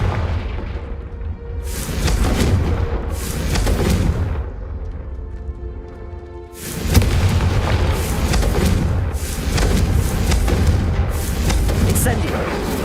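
Repeated Confringo fire-spell blasts in the Hogwarts Legacy video game, heavy booming bursts with dense low rumble rolling through a busy battle, several impacts spread across the stretch with a brief lull midway.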